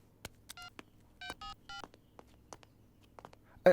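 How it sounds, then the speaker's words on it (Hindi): Telephone keypad dialing tones in a movie sound effect: a quick series of short beeps in uneven rhythm, quiet and close, with a few faint clicks between them and a sharper tone at the end. "सर रिंग हो रही है।"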